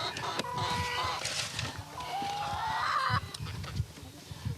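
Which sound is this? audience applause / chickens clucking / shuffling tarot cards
chickens clucking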